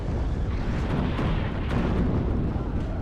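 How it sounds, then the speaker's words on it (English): Artillery shells landing in the real-time strategy game WARNO, a dense continuous rumble of overlapping blasts and debris with no clear breaks, loud throughout and with no talking over it. "Artillery also coming in now over here against the D30s"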